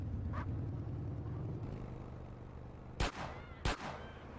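Two sharp gunshots in GTA San Andreas Definitive Edition, spaced under a second apart, loud and distinct over a low rumbling engine-like background, with no talking.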